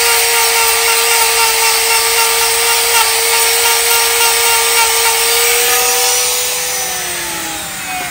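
A power tool grinds steadily into a large yew trunk, deepening a cut and clearing away excess wood, with a continuous high whine and rough abrasive rasp that stays loud and close before easing slightly near the end.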